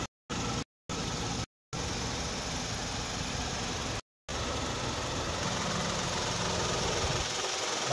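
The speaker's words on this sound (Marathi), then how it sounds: "गाडीचं इंजन चालू केलेलं आहे" A Maruti WagonR running on CNG idles with a low, even mechanical hum. The engine is quiet and steady throughout, with a few brief dropouts in the sound.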